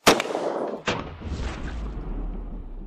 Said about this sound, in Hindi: सबसे पहले हमारी professionally loaded fine chain. 3 2 1 firing.